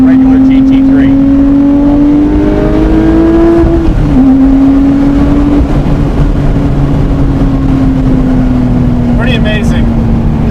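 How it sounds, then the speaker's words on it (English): A red Porsche 911 Speedster engine revs through an aftermarket exhaust, a loud droning note climbing and settling over several seconds, with a voice speaking over it. "And just listen to that car, guys."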